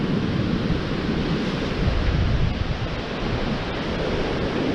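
Sea waves break on the Bristol Channel shore on a windy day. The surf is a constant, loud roar with heavy wind buffeting the microphone, and there are no voices.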